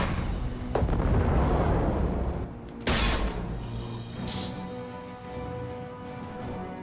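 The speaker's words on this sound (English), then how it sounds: "Just follow the explosions." Explosions in the video game Mass Effect 2: a heavy rumbling blast up front, then a second sharp burst near the middle, followed by a lingering low roar with faint debris and ambient hum.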